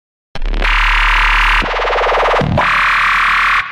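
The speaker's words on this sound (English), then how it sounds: "This time we're making that laser beam screech slash bass sustained sound." Dubstep laser-beam screech and sustained bass synth, a loud buzzing, harmonically dense tone with a deep sub underneath, held for about a second, briefly cut, then resumed at a shifted pitch.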